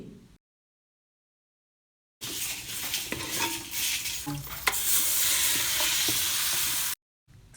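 Spices and onions sautéing for a homestyle beef roast, a close, steady sizzle with a spoon scraping and clinking against the pan, the frying hiss swelling louder toward the end, with silent gaps before and after.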